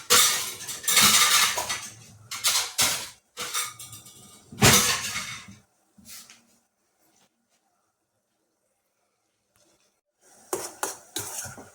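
Metal pot and lid clatter and clank in a series of loud knocks and scrapes as the pot is covered, followed by near silence, then a few more clinks.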